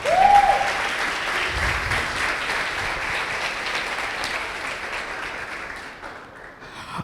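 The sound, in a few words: audience applause in church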